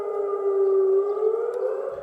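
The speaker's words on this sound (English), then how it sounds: "Sirens blare across the Jordanian capital, warning residents to stay in their homes." A civil defense siren blares across Amman, Jordan, to signal a COVID-19 lockdown. It is a steady, sustained wailing tone, held long and even, with a distant, echoing quality and no voices.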